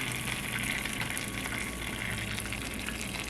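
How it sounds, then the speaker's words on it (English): Butter mixture poured over chicken thighs in a pan, producing a loud, steady, unbroken gush and sizzle close up that lasts throughout. "You're going to pour the butter mixture on top of the chicken thighs."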